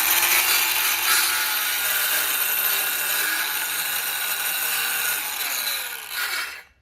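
Saw cutting through a resin and wood overhang, a steady rasping buzz that grinds on evenly for several seconds before winding down and stopping at the end, with no speech.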